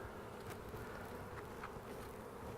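A steady, dense buzzing of many bees fills the air, continuous and close, with no voices.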